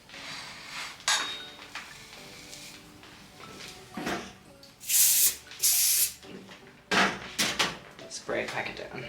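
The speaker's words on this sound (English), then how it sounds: "Spray pack it down." Hairspray hissing onto a drag wig during a classic blowout styling, in several short loud bursts amid brushing and handling clatter, with a voice speaking in between.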